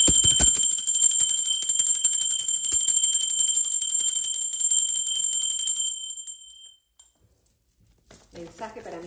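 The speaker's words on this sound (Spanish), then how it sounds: "La campana es una energía de alta frecuencia" A bell rings with a bright, sustained high tone and shimmering overtones. It fades away after about six seconds, and then a voice starts speaking softly.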